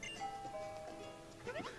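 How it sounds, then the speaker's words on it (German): Doorbell chime from the Pokémon Moon video game, a short two-tone electronic ding-dong heard alone at moderate volume over a soft game background. "Oh, die Türklingel, wir haben Besuch."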